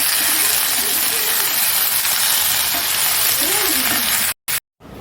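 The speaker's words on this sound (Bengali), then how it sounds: "একটু আলু ভেজে নেব" Potatoes frying in a pan, a loud continuous sizzle up close that breaks off in two brief cuts near the end.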